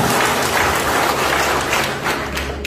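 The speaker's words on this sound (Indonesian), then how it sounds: "Nah, tepuk tangan dong buat ya" Audience applause at a business presentation, a steady dense burst of clapping that carries through the whole moment at a loud level with no talking over it.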